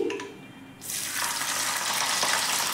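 Ginger garlic paste dropped into hot oil and ghee already holding whole garam masala sets off a sudden loud, steady sizzle that starts after a brief quieter moment and keeps hissing evenly to the end.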